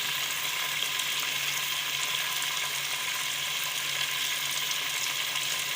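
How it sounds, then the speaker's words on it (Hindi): Chicken fries with garam masala in a pan, giving a steady, even sizzle that holds at moderate level with no pauses and no voices. "हमारा चिकन फ्राई हो चुका है।"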